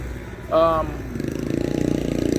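A motorbike engine is heard nearby, first as a brief rising rev, then as a steady, pulsing idle that grows louder. A short vocal sound comes just before it.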